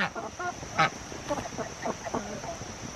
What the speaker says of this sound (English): You ducks, you backwashingest ducks. Let's watch the ducks for a moment.